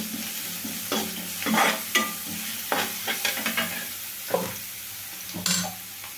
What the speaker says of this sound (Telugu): పచ్చివాసన పోయేదాకా వేగనివ్వాలండి అల్లం వెల్లుల్లి పేస్ట్ని.